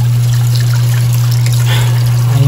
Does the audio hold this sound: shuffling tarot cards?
no